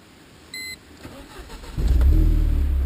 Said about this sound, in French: Et je vais démarrer la voiture.